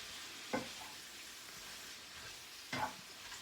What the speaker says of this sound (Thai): ผัดกระลำใส่ไข่